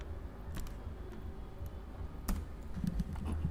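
Fingers tapping on a computer keyboard, a quiet, close run of light clicks at an uneven pace, with short pauses between bursts of keystrokes and no talking.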